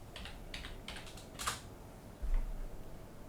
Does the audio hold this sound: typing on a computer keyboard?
yes